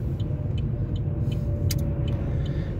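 Car driving through a city centre, a steady close rumble of engine and road noise with faint passing traffic and brief higher clatters, no talk.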